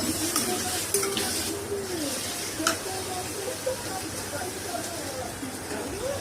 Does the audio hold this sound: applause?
no